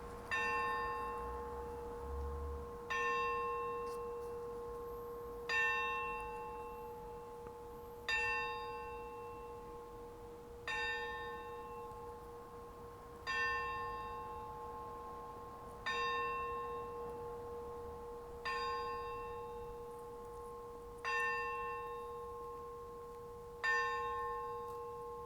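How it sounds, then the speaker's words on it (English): Church bells ring in a slow, regular peal of about ten evenly spaced strikes, each one clear and ringing out over a steady sustained tone, with no voices. "because the bells were testing your patience"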